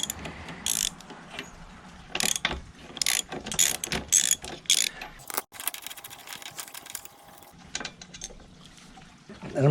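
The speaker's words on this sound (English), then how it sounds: "Then I'm going to go ahead and loosen these two bolts up." Ratchet clicking in short bursts as 19 mm axle bolts on an e-bike's rear wheel are loosened, with sharp metallic pawl ticks close up and brief pauses between strokes.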